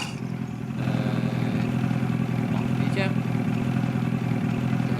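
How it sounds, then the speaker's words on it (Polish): A machine's engine idles steadily in Farming Simulator 22 at a lakeside fishing spot, a constant droning rumble with faint clatter while a person talks over it. "musi być silnik zapalony"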